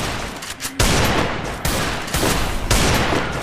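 Bursts of gunfire in the video game Free Fire come as dense, loud volleys of rapid shots. Several bursts follow one another with short gaps between them.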